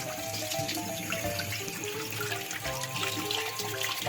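Tap water runs steadily while children's hands are washed under a faucet, a continuous splashing stream with soft clatter and a voice faintly in the background.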